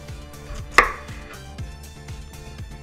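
Peeled potatoes are cut on a cutting board in a series of close, rhythmic knife chops, with one sharper, louder strike near the start, set over faint background music.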